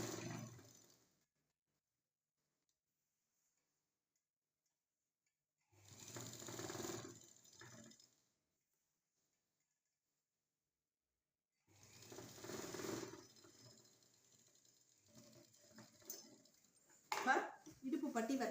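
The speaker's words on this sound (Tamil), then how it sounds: "இது அப்படியே ஒரு தையல் போட்டுடலாம்." Sewing machine stitching a silk skirt (pavadai) during a tailoring lesson, running in three separate bursts of a few seconds each with quiet gaps between, fairly close, with someone talking over parts of it.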